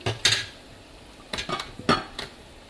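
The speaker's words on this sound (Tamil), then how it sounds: "இப்படி விட்டு மிக்ஸ் பண்ணி விட போகிறேன்." Bitter gourd curry with milk stirred in a pan, a spoon scraping and clinking against the metal in a few separate bursts with quiet pauses between, close and fairly loud, with no voices.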